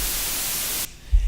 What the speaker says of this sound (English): that's us generating white noise through a buffer node